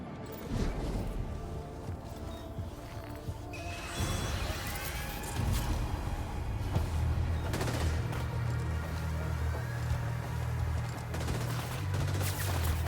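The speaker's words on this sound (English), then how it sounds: "Someone's shooting at us." Gunfire in Death Stranding 2: bursts of rapid shots and sharp cracks break out over a low rumbling background, growing denser midway and staying fairly loud and close.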